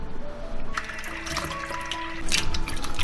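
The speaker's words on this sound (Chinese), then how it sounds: "我们先来煮2个鸡蛋" Water bubbling and trickling in a pot as two eggs are boiled for a sweet soup, with steady liquid noise, a few brief clinks and a louder splashy burst near the end.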